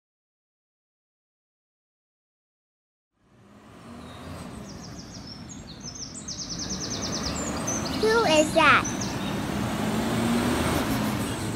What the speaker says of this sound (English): Oh, it's a garbage truck which starts with G.